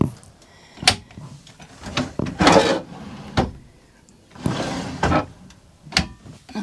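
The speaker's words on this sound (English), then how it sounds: "Another good drawer, and a nice big deep one here with a divider" Drawers in a Burstner Harmony Line Lyseo 728 G motorhome sliding open and shut, with several clunks and rolling slides at close range and a person talking in between.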